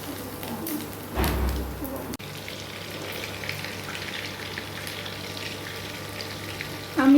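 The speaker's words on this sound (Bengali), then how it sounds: "এগুলো আমি একটু গোল্ডেন ব্রাউন করে ভেজে নেব" Fritters of fish roe mixed with egg, shrimp and chopped onion fry in hot oil with a steady sizzling hiss, and a sharper burst of sizzle comes early as more batter drops in. Birds coo faintly in the background.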